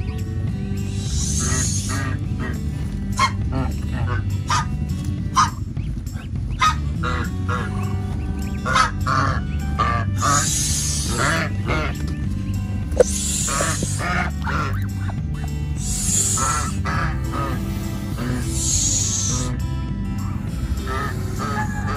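Several geese honk loudly and repeatedly up close, harsh calls overlapping in a continuous noisy chorus.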